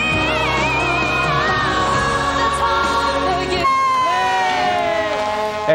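A large crowd at millennium New Year celebrations in a busy section of Manila roars and cheers with shouting voices and whistling tones, the din dropping abruptly partway through before more scattered cheers continue.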